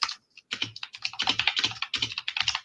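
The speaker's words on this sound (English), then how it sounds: "You hear the tickety tackety tacking of his fucking keyboard in the background?" Rapid, busy typing on a computer keyboard, clattering in quick irregular bursts with a brief pause near the start, close and clear with no voices over it.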